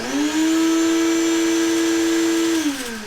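A vacuum cleaner set to blow rather than suck roars steadily at close range, starting up, holding a loud even whine for about two seconds, then winding down.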